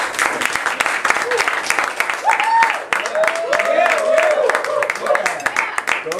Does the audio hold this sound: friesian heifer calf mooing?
no